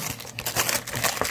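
Wrapping paper crinkles and rustles up close in a quick run of crackly bursts as an advent present is torn open.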